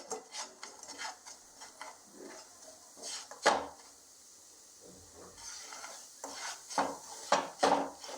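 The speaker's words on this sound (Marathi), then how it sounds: "सारखा हलवायचा आहे गुळाला" Jaggery stirred in a frying pan over high heat, intermittent scraping and rubbing of a spoon against the pan in uneven strokes, close but quiet, with no talking.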